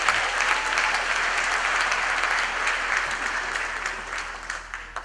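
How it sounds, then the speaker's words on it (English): An audience at a university graduation ceremony applauding a choir, a broad, steady wash of many hands clapping in a large hall, sustained and fairly loud throughout. "Let's give them another big round of applause."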